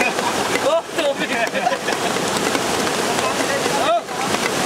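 Heavy rain pouring down outdoors at Burayok Falls during a lunch in the open, a loud continuous broadband hiss of water with wind buffeting the microphone and brief excited voices over it.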